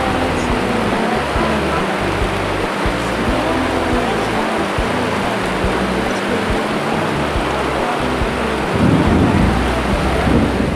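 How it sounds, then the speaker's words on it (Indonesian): Heavy rain pours down steadily and loudly at a catfish fishing pond, a dense unbroken roar that swells stronger near the end, with possible low rumbling underneath. "Hujannya makin kencang."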